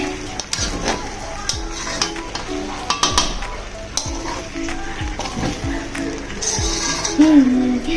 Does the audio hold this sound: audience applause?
no